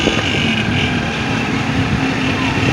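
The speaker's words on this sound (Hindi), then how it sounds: "क्लच के बगैर आज गियर निकालने और लगाने का तजर्बा कर रहा हूँ साथ साथ।" A motorcycle engine drones steadily while the bike is ridden toward Lahore and gears are shifted without the clutch, with loud, constant engine rumble and heavy wind buffeting on the microphone throughout.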